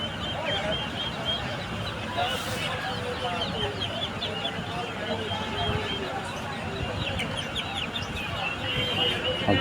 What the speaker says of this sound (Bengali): আছে ফ্যান্সি মুরগি,